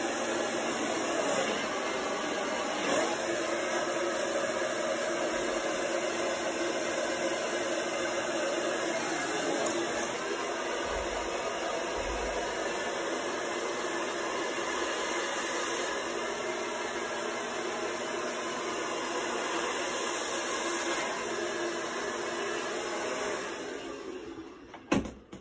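Hair dryer running steadily on a gentle, low heat setting while styling an Elvis-style tribute wig, a continuous even whirr that holds for about 24 seconds before cutting off at the end.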